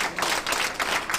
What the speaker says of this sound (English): Hotel staff here, all wearing masks, are clapping as the first tourists arrive.